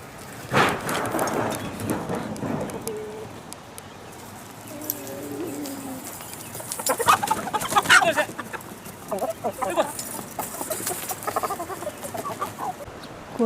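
Chickens on a chicken farm clucking and calling at close range, with repeated bursts and softer murmurs amid light background patter and occasional human voices.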